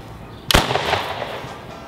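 A potato launcher loaded with clear slime fires one sharp, loud pop, followed by a short spattering rush that fades away.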